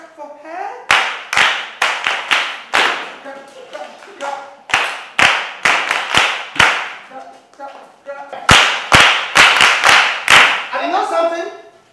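Kids in a classroom clap for a girl in repeated loud bursts. The rounds are clustered and separated by short pauses, and a voice speaks between them.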